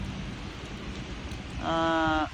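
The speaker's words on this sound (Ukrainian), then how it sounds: "Подивіться, який дощ падає. Просто злива, неймовірна." Heavy rain pours down in a steady, dense hiss outdoors at a workplace exit, loud and continuous throughout, with a tonal hum rising near the end.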